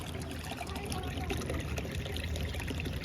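Cold mountain stream water flowing steadily on a hillside fishing trip, a continuous close, even rush and trickle with no pauses.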